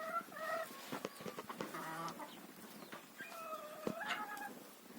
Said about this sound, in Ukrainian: Такі вже курчата підросли, такі гарненькі, особливо ці півники.